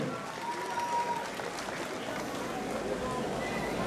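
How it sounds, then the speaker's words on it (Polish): Steady applause from the crowd at the opening of the 2019 diocesan, district and municipal harvest festival in Chybie, Poland, a dense, even clatter of many hands lasting throughout, with faint voices mixed in. "Jeszcze raz poproszę o wielkie brawa"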